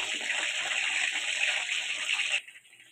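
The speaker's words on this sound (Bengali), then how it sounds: "ওই তেলের মধ্যেই ভাজা চিকেন পকোড়াগুলো আবার আমি দিয়ে দিচ্ছি। এটা ডিপ ফ্রাই করার জন্য সেকেন্ডবার কিন্তু দিলাম।" Chicken pakoras going back into hot oil for a second deep fry over a low flame give a steady, dense bubbling hiss that cuts off abruptly near the end.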